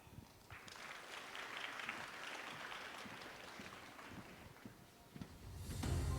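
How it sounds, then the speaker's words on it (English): Applause from an audience at a university business school open house in Thailand, a steady wash of clapping held at moderate volume through most of the stretch, ending with a louder burst. "Let's give a big round of applause."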